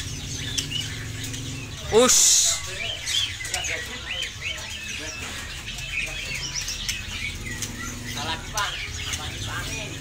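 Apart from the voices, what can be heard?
birds chirping and flapping wings during bird review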